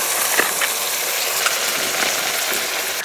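Fish sizzles loudly in a hot pan with oil, lightly spiced with salt, turmeric and roasted cumin, a constant close frying hiss with faint stirring clicks and no voices.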